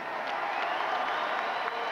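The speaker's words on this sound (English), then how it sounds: "a round of applause, please, for a superb ex-champion who I'm sure will come back from this defeat" A boxing crowd applauds an ex-champion, Alex Arthur, after his defeat to Michael Gomez, a steady, fairly faint wash of clapping from a large arena audience with no break.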